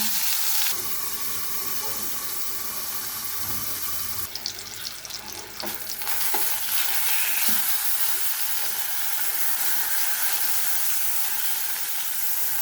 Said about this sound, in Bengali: এই বেগুনটি আমি ওইভাবে লাল লাল করে ভেজে নিচ্ছি